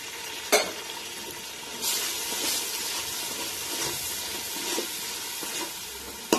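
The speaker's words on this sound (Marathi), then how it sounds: "जे आपण पेस्ट तयार केलेली आहे आले, लसूण आणि कोथिंबीर, ती प्रथम ह्याच्यामध्ये घालायची" Ginger, garlic and coriander paste fries in hot oil for Maharashtrian masale bhat, a steady soft sizzle with occasional stirring scrapes and a sharp clink near the start, close and fairly quiet, with no talking.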